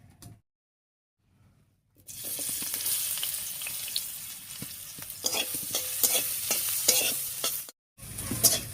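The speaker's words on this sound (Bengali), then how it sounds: "এবারে তেলের উপরে দিয়ে দিচ্ছি পেঁয়াজ কুচি" After a quiet start, chopped onion hits hot mustard oil in a wok with a loud sizzle, followed by crackling and repeated scraping strokes as it is stirred.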